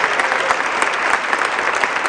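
A crowd at an abortion-rights rally in Rhode Island claps for the governor, a loud, close, continuous round of applause.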